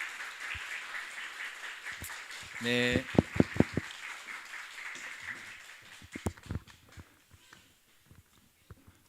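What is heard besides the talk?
audience applause welcoming the pastor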